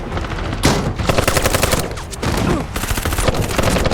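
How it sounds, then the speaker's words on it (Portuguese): Rapid machine gun fire from a Netflix action film rattles in three loud, sustained bursts separated by short breaks, each made of fast sharp cracks over a heavy low rumble. "O cara pegar uma metralhadora, mirar e atirar"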